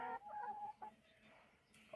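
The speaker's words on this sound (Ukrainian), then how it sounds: "Півень." A rooster clucks and calls in a few short, bright bursts close by, then quieter clucking trails off with no talking.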